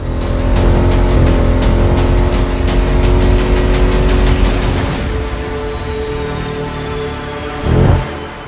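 A Jeep Grand Cherokee Trackhawk's supercharged 6.2-liter V8 roars loudly at high revs, then eases off and winds down, ending with a short burst of noise.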